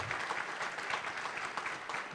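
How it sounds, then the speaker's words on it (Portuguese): Applause from a seminar audience, a soft, somewhat distant patter of many hands clapping steadily for the whole stretch. "uma salva de palmas para ele também"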